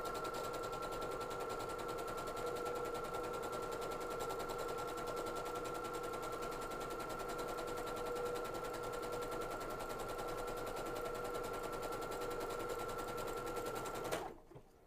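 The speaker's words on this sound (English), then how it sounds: "You already have it on your overcast stitch, so just start sewing." A sewing machine runs steadily on an overcast stitch, a fast, even mechanical hum and rapid needle clatter close by for about fourteen seconds before stopping abruptly, with no talking.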